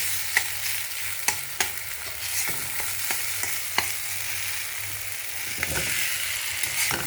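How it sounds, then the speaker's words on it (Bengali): Fried potatoes stirred into a cabbage curry in a pan make a steady, fairly quiet sizzle marked by sharp spoon clicks and scrapes at irregular intervals, heard close with no talk. "ভেজে রাখা আলুগুলো দিয়ে দিলাম। এবার একটু নেড়ে নেব।"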